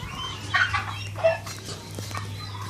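Roosters mating with hens in a turkey and chicken farm yard produce a couple of brief squawks and clucks with a burst of flapping, set against a steady low hum of background noise.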